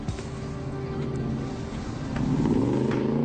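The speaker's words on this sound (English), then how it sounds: "Stop the engine! Stop your engine!" A car engine idles and then revs in a police standoff scene from a TV drama: a loud, steady low rumble that climbs in pitch and volume toward the end, with no talking over it.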